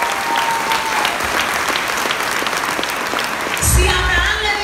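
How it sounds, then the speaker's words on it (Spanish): A church congregation applauds during a sermon with sustained, dense clapping from many hands and a crowd murmur beneath. A louder burst of cheering rises near the end. "si le vas a dar un aplauso a Dios,"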